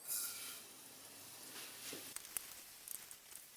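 Cumin and onion sizzle quietly in oil in a pan, a soft steady hiss with occasional stirring clinks and scrapes toward the end.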